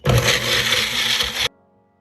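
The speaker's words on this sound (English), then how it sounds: "We about to start the blender right now." A blender whirs loudly as it purees Irish sea moss with water, a steady grinding roar that cuts off abruptly after about a second and a half.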